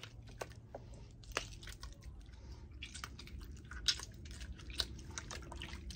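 Broken aloe vera leaves are squashed and squeezed by hand in water, giving close, quiet wet squelches and crackly snaps at irregular intervals over a faint low hum, with no talking.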